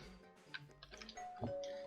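Doorbell in the Roblox game Work at a Pizza Place, a single clear two-tone chime ringing out near the end, preceded by light clicks and game sounds.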